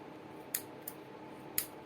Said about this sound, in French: Je vais couper un peu la tige.